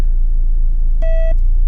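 A Mahindra XUV700 AX5 SUV's reverse parking sensor gives one short, clear electronic beep over the low rumble of the running vehicle.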